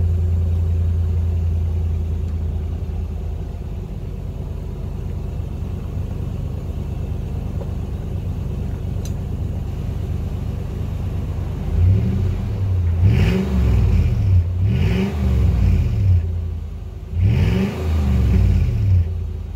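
A Lexus GX470 with a 4.7L V8 and Gibson cat-back exhaust idles with a deep low rumble, then gives three loud revs near the end, climbing to roughly 2,000 and finally 3,000 rpm, recorded close to the tailpipe.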